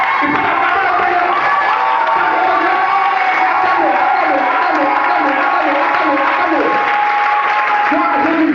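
A church congregation at a prayer celebration applauds and acclaims the Lord with loud, sustained clapping and cheering shouts from a large crowd. A voice speaks over the continuous roar.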